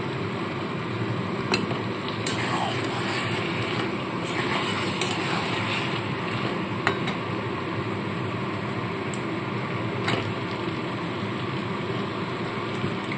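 Chicken stir-fries in a covered pan on low heat, giving a steady hissing sizzle with faint scraping and occasional clicks throughout, no voice heard.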